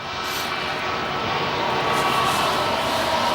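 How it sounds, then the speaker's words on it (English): An Atlas Air plane departing down a runway at O'Hare, a loud steady jet engine roar building slightly over a few seconds, broad and continuous with no talking. "Very likely to be our next departure lined up here on the runway in the center of O'Hare."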